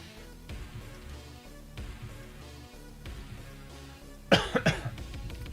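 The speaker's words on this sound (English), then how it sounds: "so apologies for my random cough." A few sharp coughs from a sore throat burst out near the end, close and loud, following a stretch of quiet background sound.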